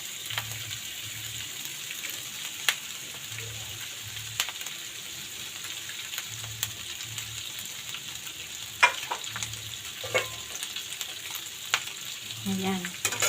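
Tofu and pork frying in a little oil, a faint, steady sizzle with occasional crackles and utensil clicks against the pan, alongside a low intermittent hum.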